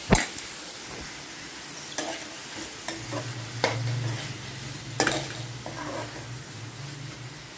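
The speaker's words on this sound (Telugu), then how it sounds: "ఇప్పుడు కోసి పెట్టుకున్న వంకాయ ముక్కలు కూడా వేస్తున్నానండి అంత బాగా ఒకసారి మిక్స్ చేసుకొని" Brinjal pieces go into a pan of fried onions and are stirred, producing a faint sizzle with a low hum beneath and several sharp clacks of a spoon against the pan.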